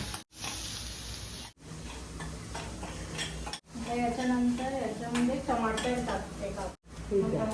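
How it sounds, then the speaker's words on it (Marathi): Cumin powder and garam masala fry with onions in a pan, making a soft sizzle with stirring scrapes and clinks, while someone talks over the cooking and the sound cuts in short segments. "जिरा पावडर आणि थोडंसं गरम मसाला गरम मसाला सर्व मसाले कांद्यामध्ये एकत्र परतून घ्यायचे"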